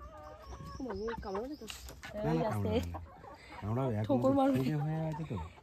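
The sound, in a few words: chickens clucking at a chicken farm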